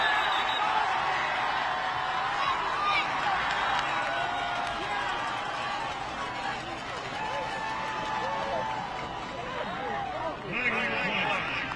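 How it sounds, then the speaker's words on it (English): An Oakland crowd at a high school football game reacts loudly after a penalty flag on a deep pass, a sustained roar of voices and shouts with an announcer talking over it. "Oakland crowd making their opinion known."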